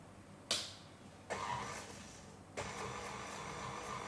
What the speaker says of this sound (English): that needs to go straight into your mixer. And then just put it on a low setting